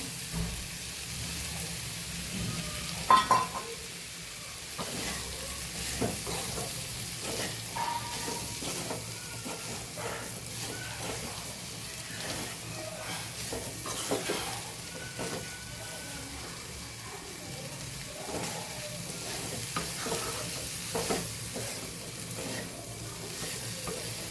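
Spiny gourd (kantola) frying in a pan with masala, stirred by a spoon that scrapes now and then over a steady, moderate sizzle lasting throughout with no talking.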